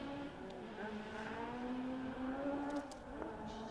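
A distant rally car on a stage rally revs and climbs through the gears down a long straight, its droning pitch rising steadily, fairly faint against open-air background noise.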